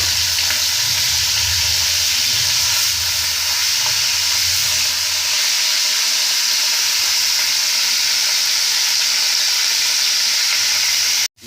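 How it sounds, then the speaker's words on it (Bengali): Fish frying in oil in a wok, a loud continuous sizzle and crackle heard close up, with low rumbling stirs early on and no speech, cutting off abruptly at the end. "কড়াতে তেল দিয়ে দিয়েছি এবারে মাছগুলো আমরা প্রথমে সব ভেজে নেব মাছগুলো আমরা তেলের মধ্যে দিয়ে দিচ্ছি"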